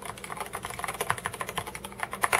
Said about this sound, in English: it's a pretty quiet keyboard too